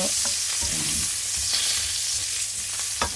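Chestnut mushrooms with garlic fry in a pan with a steady, close sizzle, broken by occasional clicks and scrapes of stirring.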